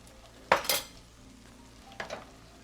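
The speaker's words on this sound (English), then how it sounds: "Just keep stirring." A utensil scrapes and clinks twice against a pot of cooking trumpet mushrooms, two short strokes about a second and a half apart over a quiet background.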